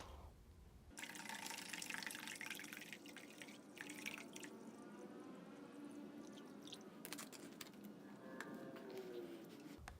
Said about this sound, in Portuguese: agora vamos terminar de encher o nosso reservatório